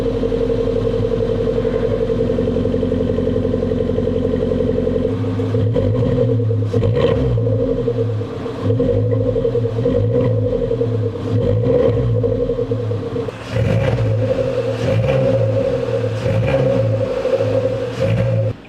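2021 Suzuki Jimny GLX fitted with a Drift axle-back exhaust, heard close up with a steady low idle before several sharp revs that rise and fall, then settling back to a rumbling idle between throttle blips.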